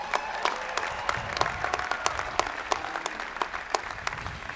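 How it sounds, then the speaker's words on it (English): A commencement crowd gives itself a big round of applause: sustained, dense clapping from many hands, with sharp individual claps standing out over the wash, steady throughout and free of speech. "I'd like you to give yourselves a big round of applause right now"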